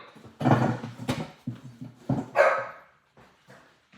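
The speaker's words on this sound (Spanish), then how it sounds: "¿A qué tú le ladras, viejo?" A dog barks in a quick run of loud, close barks, several sharp yelps spaced over a few seconds, with quieter trailing sounds after.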